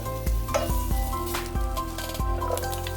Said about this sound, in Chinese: 锅热以后把排骨倒进来，翻动一下，炒出一些油